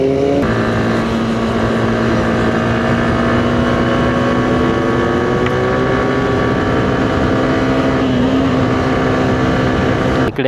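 A motorcycle engine drones loud and steady through a short tunnel on the Malshej Ghat road during a monsoon ride, its tone rising slightly as it echoes, with wind buffeting the microphone throughout.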